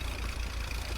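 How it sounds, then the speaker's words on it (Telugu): Tractor engines run steadily at dewatering works, giving a continuous low, droning idle with a faint knocking pulse and no pauses over the short stretch. "ఇవన్నీ కూడా ట్రాక్టర్లు పెట్టి ఒక 6-7 ట్రాక్టర్లు పెట్టి మొత్తం ఇలా వర్క్స్ అన్నీ డివాటరింగ్ వర్క్స్ చేస్తున్నారు"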